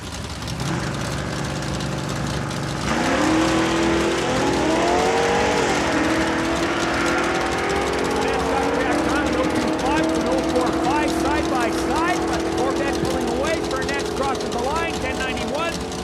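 Drag racing cars, a Corvette and a 1962 Fury, launch at Saskatchewan International Raceway. The engines roar up and climb in pitch, loud and sustained, while an announcer talks over them.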